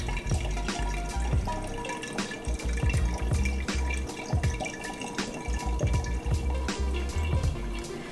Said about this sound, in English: while the strainer is catching any of the sediment, it's also aerating the wort to help ferment better